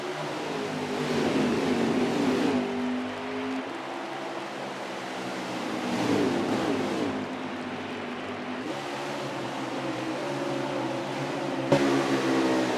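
Stock cars racing on the Bristol short track, a continuous loud engine roar with shifting pitch as cars pass, swelling and fading in waves over steady crowd-like wash, with no talk heard.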